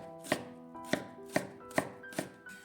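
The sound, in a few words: knife chopping radish into thin shreds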